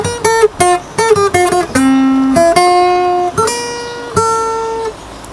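Acoustic guitar plucks part of a TV theme song, a bright run of short picked notes then longer ringing ones, loud and close, with no talking.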